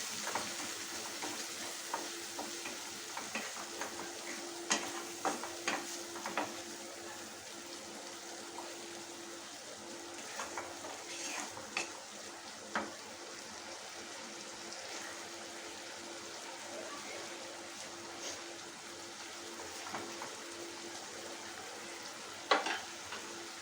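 Kadai chicken is stir-fried with salt in a pan, a soft constant sizzle with scattered spatula scrapes and clinks, fairly quiet and close, one louder knock near the end.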